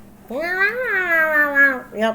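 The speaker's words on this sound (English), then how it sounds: "This is my cat one complaining." A pet cat lets out a long, drawn-out complaining meow followed by a shorter one, loud and close, with a brief spoken word from a person.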